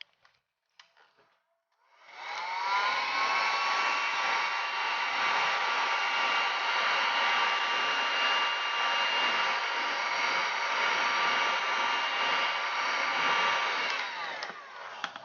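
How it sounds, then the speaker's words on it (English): A heat gun blows steadily and loudly on Wonderflex thermoplastic for cosplay teeth, its broadband whoosh carrying a faint whine, starting abruptly after a few quiet clicks and holding unchanged to the end. "use your heat gun to heat up your"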